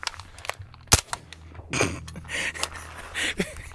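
A suppressed 9mm Scorpion sub gun with an Osprey 9 suppressor fires one sharp, close shot, followed by quieter handling noises and rustling.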